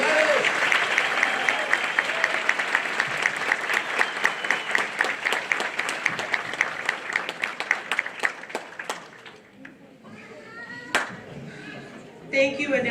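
Loud, sustained applause from a crowd at a university convocation ceremony, dense clapping that thins out toward the end into scattered claps.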